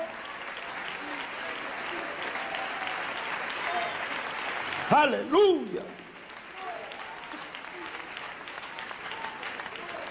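A church congregation claps in praise, a continuous wash of applause beneath a speaker's voice, with a brief loud exclamation cutting through midway before the clapping resumes.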